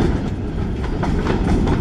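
A freight train rolls past on the railroad, a loud steady rumble with rhythmic clickety-clack of wheels over rail joints, close by and continuous without any talk.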